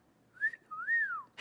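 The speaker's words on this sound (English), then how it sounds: "That was risky because I don't always whistle well." A person whistles two clear, sliding notes: a short rising-falling one, then a longer arching one. A brief burst of noise follows at the end.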